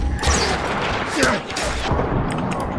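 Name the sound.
gunfire shooting at the player in the video game Far Cry 4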